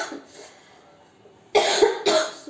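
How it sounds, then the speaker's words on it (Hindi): A woman gives two loud, dry coughs close to the microphone, each a sharp burst after a stretch of faint background sound. "सूखी खांसी टाइप की है,"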